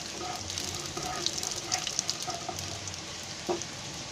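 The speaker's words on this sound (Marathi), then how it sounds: "त्याच्यामध्ये हा खसखस टाकायचा आहे. खसखस थोडासा भाजून घ्यायचा." Poppy seeds roasting in ghee in a pan, a steady close sizzle and crackle with light stirring scrapes now and then.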